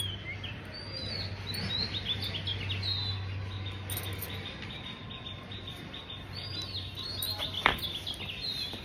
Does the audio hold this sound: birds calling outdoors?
yes